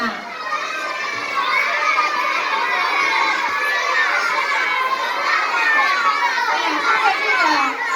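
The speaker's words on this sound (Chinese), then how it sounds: "来，我们可以大声的叫出你们自己心中最喜欢老师的名字" Schoolchildren loudly shout and cheer together at a Chinese school event, a dense continuous crowd of young voices calling out names, steady and energetic throughout.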